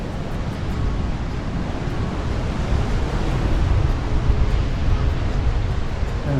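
Big surf breaks and rolls onto a driftwood-strewn sand beach at Nawiliwili, Kauai, a steady, loud roar of waves and wash that swells slightly toward the end, with wind noise and no voices.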